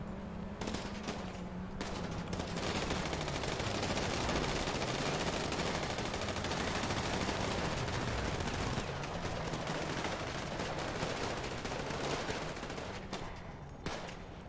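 Sustained gunfire fills a GTA V roleplay scene with dense, continuous volleys of rapid shots that last nearly the whole stretch, loud and close, with little else audible.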